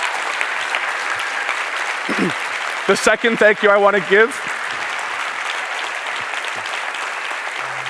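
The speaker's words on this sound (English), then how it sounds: "can we give a round of applause to our customers?" Audience applause at a keynote closing session, steady broadband clapping from a large crowd throughout, with someone speaking briefly over it in the middle.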